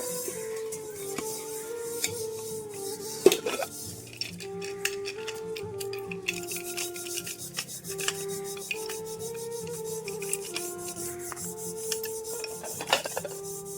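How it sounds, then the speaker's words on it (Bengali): A pressure cooker is scrubbed by hand with ash, giving steady rasping, rubbing strokes with occasional metallic scrapes over quiet background music throughout. "এখন প্রেশার কুকারটা মেজে নিচ্ছি"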